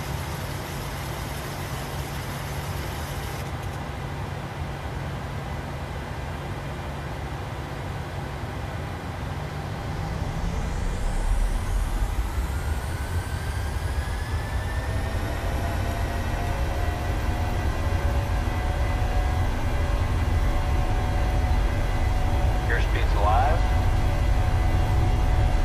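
A Boeing 737 starting its takeoff roll in the PMDG flight simulator: a steady broadband roar swells as the engines spool up, with a rising whine that climbs and holds, loud and continuous throughout.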